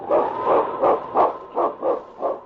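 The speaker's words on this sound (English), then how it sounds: "swiftest and strongest lead dog of the North Country" Husky sled dog barking, a lead dog of the Yukon North Country: seven loud, evenly spaced barks in quick succession, close and alone.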